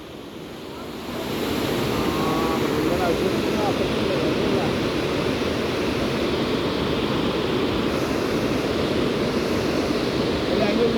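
A forest river rushes in a loud, continuous broadband roar that swells up after a brief quieter start and then holds steady, with a voice faintly audible early on.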